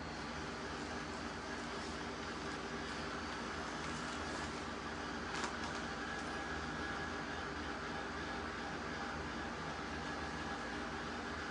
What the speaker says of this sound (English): I feel like I'm not drying it with this Quiet Ranger heat tool.